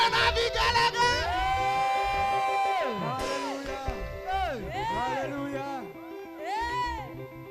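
A church congregation at a Priesthood Fellowship service in Kahawa West ululates in praise, many high trilling voices warbling and overlapping in loud sustained waves with shouts at the start.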